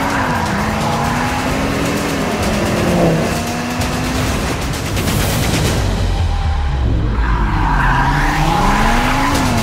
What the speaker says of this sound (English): And that unique 5-cylinder sound will forever be synonymous with Audi.